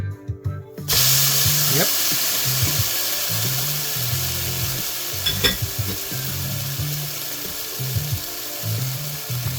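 Loud, steady sizzling of instant ramen noodles frying in a pan close by, with occasional stirring scrapes and a brief spoken word at the start.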